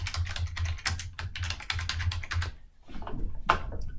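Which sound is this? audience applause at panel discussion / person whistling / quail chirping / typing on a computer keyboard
typing on a computer keyboard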